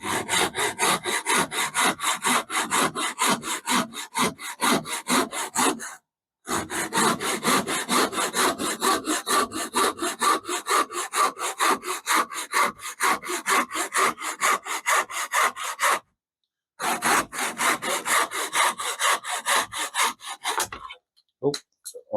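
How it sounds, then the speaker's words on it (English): Hand sanding or rasping on a wooden piece, heard as rapid, rhythmic back-and-forth strokes close to the microphone. The steady rasping runs in long bursts separated by two brief pauses. "I'll have a go at sanding"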